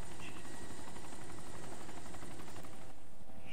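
Helicopter in the video game DayZ Origins hovering about a foot above the ground, a steady loud rotor thrum and whine filling the clip.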